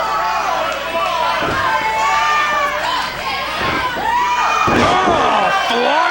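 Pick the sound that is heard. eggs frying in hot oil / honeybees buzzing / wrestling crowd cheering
wrestling crowd cheering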